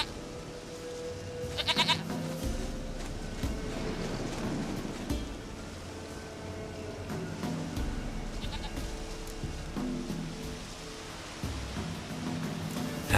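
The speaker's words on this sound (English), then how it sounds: "Goat of mine, dearest, sweetest goat." A goat bleats a few times in The Witcher 3: Wild Hunt, with short calls standing out over steady ambient game sound and rainlike noise.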